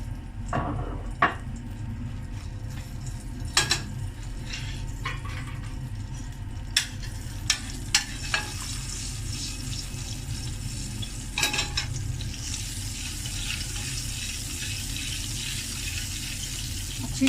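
Mutton karahi frying in a pan as a teaspoon of cumin powder goes in for a street-food-style dahi karahi, with steady close sizzling and occasional sharp clinks of the spoon stirring against the pan.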